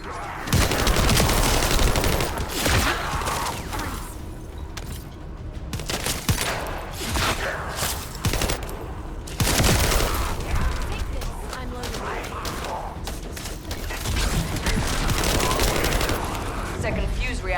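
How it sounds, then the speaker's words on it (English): Heavy, nearly continuous gunfire in The First Descendant as enemies defending a camp are shot, loud overlapping bursts running throughout with voices talking over the shooting. "now walk over here and shoot these guys"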